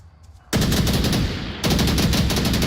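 Loud bursts of automatic gunfire in the VR shooter Onward during a competitive 5v5 match, two sustained rapid volleys close up after a quiet start, separated by a brief lower stretch.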